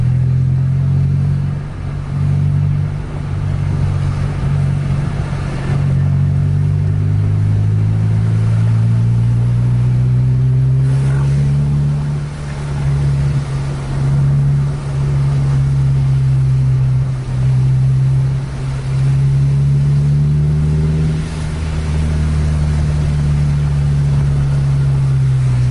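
Two long-distance intercity coaches, a Putra Pelangi and a Sempati Star, race each other on a wet, rain-slicked highway in Aceh. Their engines drone steadily and loud, with repeated rises and falls in pitch as they accelerate and shift.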